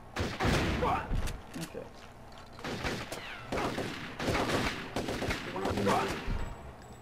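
Gunfire in the first-person shooter Turok: Shadow of Oblivion, several loud bursts of rapid shots spread through the clip, with someone speaking briefly between them.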